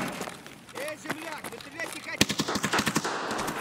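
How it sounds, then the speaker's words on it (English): Bursts of automatic gunfire in Escape from Tarkov, rapid cracking shots clustered toward the end, heard under someone talking excitedly. "Oh, they're shooting at a guy that's wrapping around."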